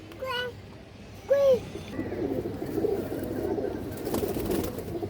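A racing pigeon gives a couple of soft, throaty coos near the start, followed by a low, steady murmur of background noise.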